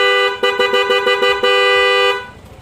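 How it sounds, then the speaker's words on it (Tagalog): A Yamaha Aerox scooter horn honks in a quick series of short beeps followed by one longer sustained blast, loud and close, from a worn horn that sounds hoarse. "Bubusina natin."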